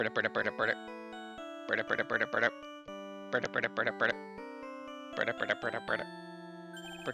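A chiptune-style character theme from the Ace Attorney 3 video game plays as a phone ringtone: bright, repeating melodic phrases in quick bursts separated by sustained tones.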